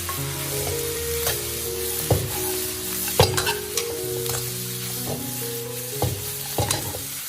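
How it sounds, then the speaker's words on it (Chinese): Lamb stir-frying with a spoon of dark soy sauce, a steady sizzle broken by repeated sharp scrapes and clanks of the spatula against the pan, close and fairly loud, no talking. "然后加入1勺老抽来上色，快速翻炒均匀"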